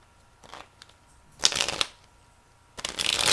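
Tarot cards being shuffled by hand during a reading, heard as three short papery riffle bursts, the last two louder and longer, close and alone with no talk.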